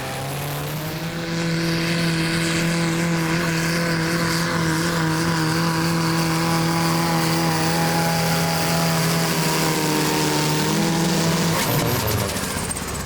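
Tractor-pulling rig powered by a VW 1.9 Passat engine at a Danish championship round in Frederikssund, a loud steady engine drone with strong harmonics, held under load for about ten seconds before the pitch drops and the pull ends.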